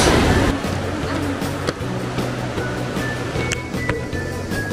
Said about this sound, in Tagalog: tingnan mo yung alon, ang lakas